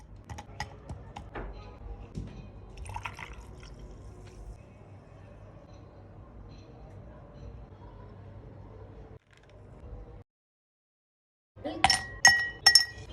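Green Up soda poured over ice in a glass, a soft continuous fizzing pour with a few early clinks, a brief pause, then a burst of sharp ice-and-glass clinks at the end.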